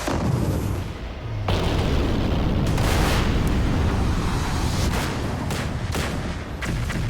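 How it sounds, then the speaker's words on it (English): Explosions from a mine blowing up during a hovercraft crossing of a minefield, a dense sustained roar broken by several sharp booming bursts, loud and close, with no talk. "But of course, we've also included plenty of explosions."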